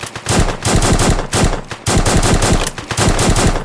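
Loud bursts of rapid machine gun fire from a video game weapon, several sustained volleys separated by brief pauses, close and dominating with no talk.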